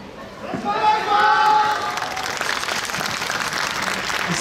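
Crowd applause at a yosakoi dance festival at Sakura Town, many hands clapping steadily together at moderate distance, with a voice over the start and the clapping carrying on to the end.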